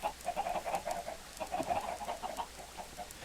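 Chickens cluck and chatter at an automated chicken cooker in a Minecraft survival multiplayer town, repeated short clucks in an uneven rhythm at moderate volume over quiet background hum.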